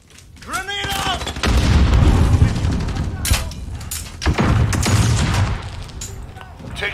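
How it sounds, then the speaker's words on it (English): In a Call of Duty match, a grenade detonates with a heavy boom amid rattling gunfire. Several sharp blasts and bursts of shots stand out over a continuous battle din, and game voices are heard. "Grenade out!"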